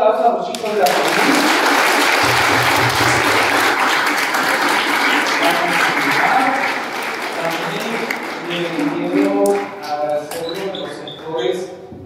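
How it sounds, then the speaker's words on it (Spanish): Strong applause for the children fills a church novena gathering for Santa Rita de Cascia, dense clapping that holds for several seconds, then thins out into scattered claps as voices and murmuring take over. "démosle un fuerte aplauso a los chicos de la familia"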